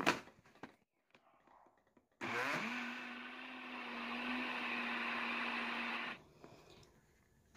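A kitchen blender runs for about four seconds mixing condensed milk for a milk pudding, starting abruptly with a rising whine that settles into a steady, fairly loud whir before cutting off, with faint clicks before and after.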